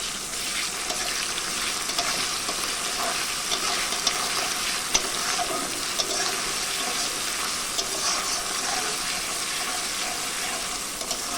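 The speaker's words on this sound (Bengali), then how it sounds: "একটু নেড়ে চেড়ে নেবো" Tengra fish and aubergine frying with garlic and ginger, a dense continuous sizzle with occasional faint clicks of stirring, steady and close throughout with no voices.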